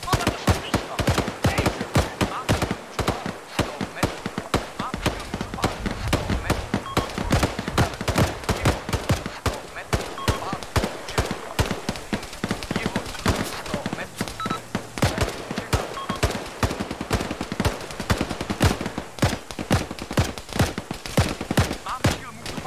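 Dense, continuous automatic gunfire from soldiers in Arma III, rapid overlapping bursts and single shots at varying distances, loud and sustained throughout with occasional voices underneath.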